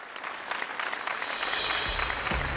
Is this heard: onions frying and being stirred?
no